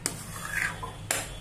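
Spoon scraping thickened milk cream off the sides of a wok while making mawa, two sharp metallic scrapes with a soft rasp between them, close and fairly quiet.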